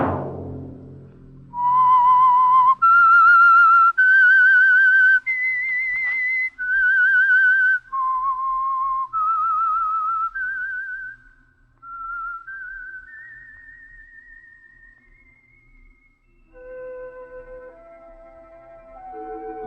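A person whistles a slow melody, clear sustained notes rising and falling in a steady phrase, alone with no other sound.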